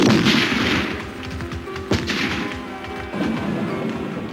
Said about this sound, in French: l'apparition du cuirassé déclenche le feu des batteries de la côte et des 80 canons du Congress